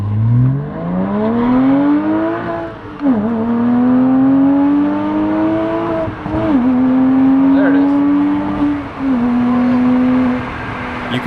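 A 2006 Porsche Cayman S with a rebuilt 3.9-litre engine revs hard through several gear shifts, pitch climbing then dropping with each change, loud and close, with a brief voice in between.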